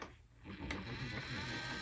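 Motorized cup turner spinning a resin tumbler starts up with a brief click, then settles into a steady mechanical whir and hum close by, with no talking.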